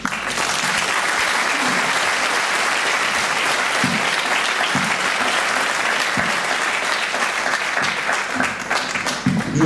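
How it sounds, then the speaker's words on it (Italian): An audience applauds steadily and densely at a Sardinian tenor singing group's tribute evening, a sustained wash of clapping that stays loud throughout. "mi aspetto anche un applauso da parte mia"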